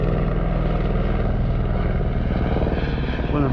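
A helicopter flies over the Swiss countryside near Gruyères, a loud, steady rotor and engine drone filling the whole stretch without a break.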